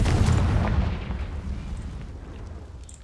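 A loud, booming Confringo explosion spell from a video game bursts at the start, then its rumble slowly fades and trails off.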